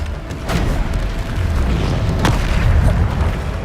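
In Hogwarts Legacy, Bombarda spells go off as heavy booming blasts, two sharp bursts standing out over a dense, rumbling combat din.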